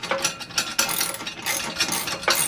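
A nut being tightened onto a bolt on a zero-turn mower chute, a close, loud series of quick ratcheting clicks from a hand wrench in short uneven bursts, with no talk.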